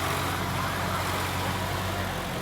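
A tractor engine drones steadily and loudly while pulling a stuck tractor free in a village, its low rumble continuous and unbroken throughout.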